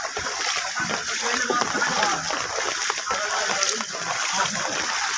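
Water splashes and sloshes continuously as a vehicle moves through knee-deep floodwater pooled for a month on a main road outside a government primary school, while voices talk over the noise.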